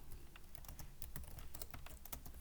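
Typing on a computer keyboard while entering a name into a C# program, a quick irregular run of close, faint key clicks with no talking.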